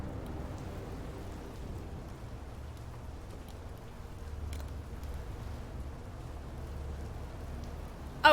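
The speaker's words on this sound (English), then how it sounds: "why is it raining inside?" Steady rain falling in the video game In Sound Mind, a soft continuous patter with a faint low rumble beneath it and scattered sharper drops, fairly quiet and with no voices.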